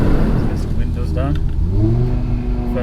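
A 2020 Audi RS3 accelerates hard in first gear, its engine note rising steeply in pitch, heard from inside the cabin with the windows down. Someone talks over the loud, climbing drone.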